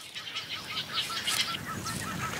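Birds call at the Okavango waters in Africa, a busy chorus of chirps and high twittering calls overlapping at moderate distance over a faint background hiss.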